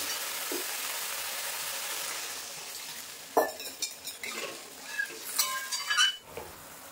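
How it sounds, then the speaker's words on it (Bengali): Water poured into a pan of frying mustard-chili masala for a Bengali rohu fish curry: low sizzling at first, then a sharp burst of hissing and spitting with clinks of utensils that gradually settles, close and fairly quiet. "এবার জল দিয়ে দেবো পরিমাণ মতো।"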